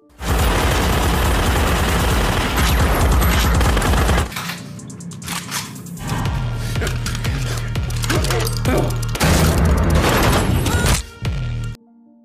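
Sustained automatic gunfire in an action film shootout, as two henchmen burst into a basement and open fire; loud dense bursts with booming impacts, a brief lull, then rapid repeated shots before cutting off.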